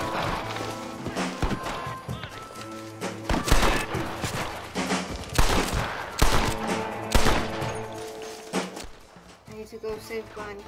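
Rapid volleys of gunfire from Red Dead Redemption crack out in loud bursts, some overlapping like a fusillade, with voices and running footsteps mixed in between shots.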